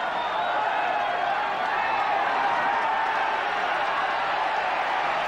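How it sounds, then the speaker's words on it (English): A stadium crowd roars at a 1987 rugby league quarter final between the Roosters and Bulldogs in the National Panasonic Cup, a dense, unbroken wash of crowd noise at steady loudness. "Well, the crowd are setting up a roar here."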